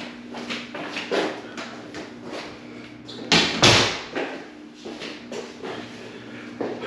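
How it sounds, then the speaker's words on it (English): A bedroom door being closed, with scuffing and shuffling movement leading to a sharp thud partway through, close and fairly loud, then quieter rustling. "I close that door"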